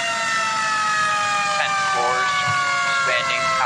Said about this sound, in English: All right, turn your sirens off.